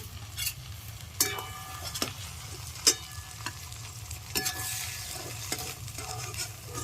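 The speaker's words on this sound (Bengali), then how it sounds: "চিংড়ি মাছ ভাজা হয়ে গেছে, আমি তুলে নিচ্ছি।" Large giant freshwater prawns from Digha crackle in hot frothing oil while being lifted out, with several sharp metallic scrapes and knocks of a utensil over a continuous close sizzle, no talking.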